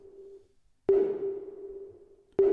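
An iPad synthesizer tone sustains with a long reverberant tail, struck twice about one and a half seconds apart, each hit blooming then slowly fading.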